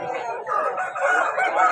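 A rooster lets out one long, loud crow close by at a Sunday country-rooster market in Vijayawada, its call rising and stretching to the end.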